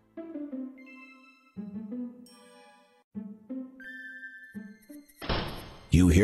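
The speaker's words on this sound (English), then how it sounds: "You hear the latch fall into place again as the door closes behind you." In King's Quest II, a series of chiming synthesized tones and thuds sound as a door closes and its latch falls into place, ending in a burst of bright noise.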